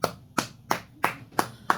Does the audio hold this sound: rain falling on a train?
no